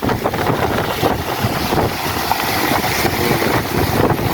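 Waves crash against a seaside baywalk in Masinloc, a steady loud wash of surf and water churn with wind buffeting throughout, no pauses.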